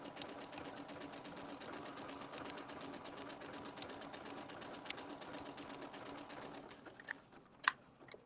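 A sewing machine stitches in a fast, even stream of needle strokes for most of the clip, close and steady, then slows and stops near the end with a few louder clicks and taps as it finishes, without anyone speaking.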